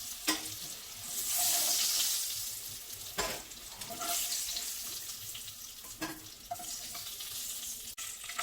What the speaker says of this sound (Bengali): সেদ্ধ করে রাখা আলু আলুগুলোকেও একটু লালচে করে ভেজে নেব